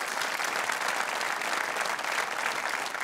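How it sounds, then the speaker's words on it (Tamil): Studio audience applauding on a Tamil television comedy talent show, a loud, dense, continuous roar of clapping that holds steady for about three seconds, alone without talk. "அவருக்காக ப்ளீஸ் கைத்தட்டல் தேவை."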